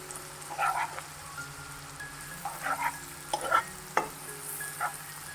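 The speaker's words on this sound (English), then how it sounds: "we have to add flour to this and make a roux" Butter and flour roux cooking in a pan for white sauce pasta, a gentle crackling sizzle with intermittent stirring scrapes and utensil taps, no voices.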